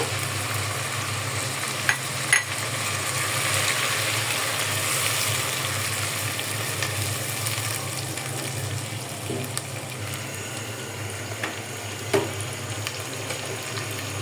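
Cumin, cardamom, cinnamon and ginger paste frying in a pan for kacchi biryani, a steady close hiss of sizzling oil with a few faint clicks of utensils, no talking.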